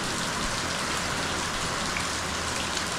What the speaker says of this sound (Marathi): इकडे कालपासून तुफान पाऊस चालू आहे